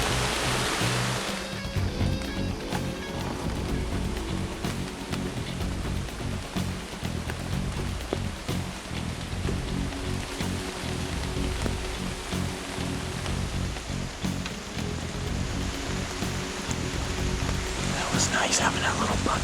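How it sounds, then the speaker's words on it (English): Heavy rain pours down steadily in an outdoor hunting spot, a dense, loud, continuous hiss and patter that fills the whole stretch without letting up. "It's pouring on."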